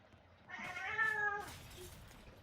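A cat lets out a single drawn-out meow close by, rising then trailing off, in an otherwise quiet room.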